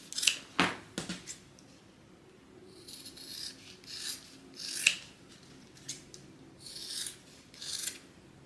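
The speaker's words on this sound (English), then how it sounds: "you're going to go ahead and trim it down just a little bit on the sides" Scissors snipping and trimming the seam allowance of a sewn fabric bag, with a series of crisp cuts and rasping blade strokes spaced irregularly, close and fairly loud with no talking.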